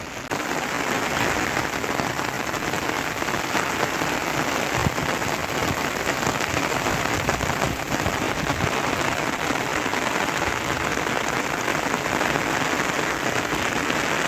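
Steady, even rainfall pours down continuously, a dense hiss of drops on surfaces with no voices.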